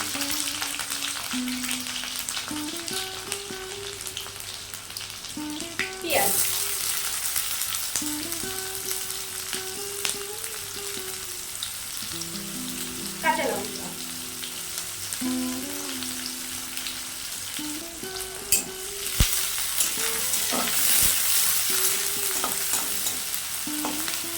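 Garlic and whole cumin seeds with halved dried red chili sizzle and crackle in hot oil, a steady bright frying hiss broken by spoon scrapes and stirring clatter, close up with no talking.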